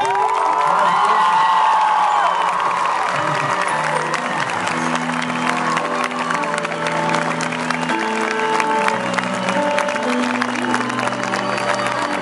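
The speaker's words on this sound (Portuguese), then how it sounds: "eu queria realmente uma salva de palmas desse artista." A large crowd applauds and cheers at a live music tribute concert, sustained loud clapping mixed with whoops and shouting voices, continuous for about twelve seconds with a lingering tonal background.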